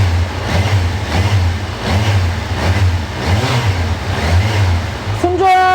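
A Kawasaki Versys 1000 motorcycle engine with a stock muffler idles with a fairly mellow, muted exhaust tone, its low rumble rising and falling in gentle revs, steady and close.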